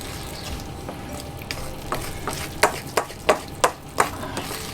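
Galaxy triple chocolate brownie mix being stirred in a bowl: soft scraping at first, then five sharp, evenly spaced knocks of the spoon against the bowl, close and fairly loud, with no talking.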